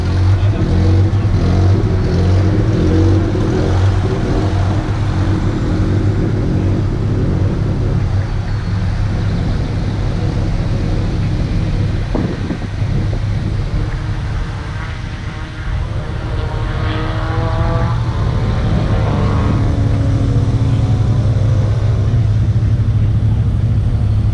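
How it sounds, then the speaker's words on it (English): Loud, continuous V8 race car engines roar and rev around a figure 8 track during qualifying, a dense unbroken wall of motor noise close to the listener for the whole stretch. "Figure 8 for the V8 figure 8 guys. They're doing qualifying right now."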